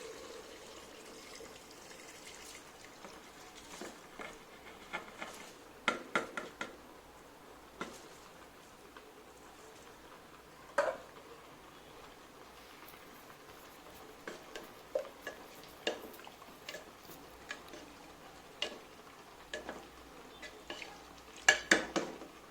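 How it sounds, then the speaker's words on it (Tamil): Soaked basmati rice goes into a pot of chicken biryani, with quiet clinks of a spoon against the pot, soft pouring and stirring sounds, and occasional sharper metallic taps over a low, hushed kitchen background. "ஸோ இப்போ வந்து நம்ம எடுத்து வச்சுருக்க ஊற வச்சுருக்க பாஸ்மதி ரைஸ் இதில் போடுறோம்."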